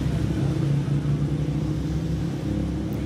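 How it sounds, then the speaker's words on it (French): A motorcycle engine rumbles steadily nearby in the aftermath of the October 7 attack, a continuous low drone with slight revving swells throughout, loud and uninterrupted with no voices. "Des bruits de moto qui lui rappellent celles du Hamas"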